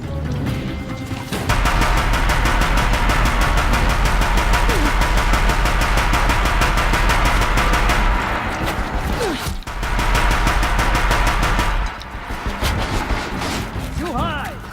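Deathbringer gun in Horizon Zero Dawn firing a sustained, loud automatic burst that roars almost continuously, with brief breaks near the start and end and a voice speaking over parts of the barrage.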